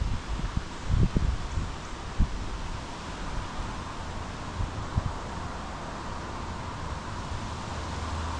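Wind blows steadily outside St Albans Sanatorium in Radford, Virginia on a bright day, a continuous broadband rush with low buffeting gusts and rustling, strongest in the first few seconds, and no one speaking.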